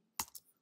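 Two quick, crisp computer keyboard key presses, close and isolated in silence, as a Command B shortcut is typed.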